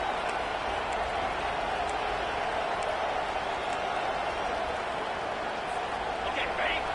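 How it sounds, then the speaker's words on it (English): Stadium crowd roars steadily throughout a college football video game matchup between Georgia and Tennessee, a dense continuous wash of cheering with no clear breaks, while a commentator talks over it. "The crowd getting behind this defense as they try to get a stop in the red zone."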